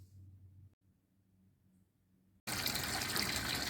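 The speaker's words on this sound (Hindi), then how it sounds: "अभी अभी जस्ट मशीन में कपड़े डाले हैं मैंने, और बस पानी भर गया ऑलमोस्ट" Tap water gushing into a washing machine drum as it fills for a load of clothes, loud and steady after a quiet stretch with faint low household hum.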